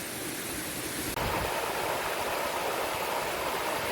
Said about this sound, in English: I like little waterfalls.